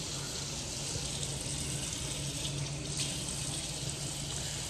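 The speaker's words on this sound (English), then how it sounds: "So I'm gonna go ahead and wet this ponytail." Water runs over a ponytail to wet the hair, a steady, close hiss of flowing water that continues evenly throughout with no voices.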